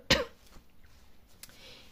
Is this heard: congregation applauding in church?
no